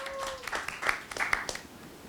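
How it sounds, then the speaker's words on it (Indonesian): Scattered clapping from a small student group during a classroom role-play talk show on education. A handful of separate, crisp claps come unevenly after a brief tone at the start. "Tepuk tangan buat kalian semua."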